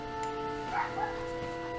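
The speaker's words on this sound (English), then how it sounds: "my dogs kept on barking. And they still are barking" Dogs barking and yipping briefly at moderate distance, a couple of short barks over a steady tonal background.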